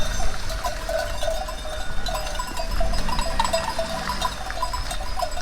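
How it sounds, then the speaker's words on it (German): A herd of goats and sheep crowds a road in Sicily between Sciacca and Marsala. Bells clank continuously and overlap, with scattered bleats mixed in at close range. "Da sind doch auch Schafe dabei."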